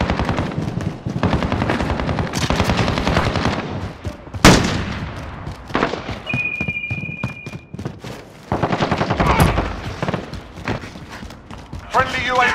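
MP7 submachine gun fire in the video game Modern Warfare: rapid automatic bursts and scattered single shots crackle in uneven spurts, mixed with mechanical clatter, a brief electronic tone, and game voices calling out over the fighting.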